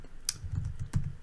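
Keystrokes on a computer keyboard during a typing.com practice game, a few sharp clicks over a soft, steady low murmur, close and fairly quiet.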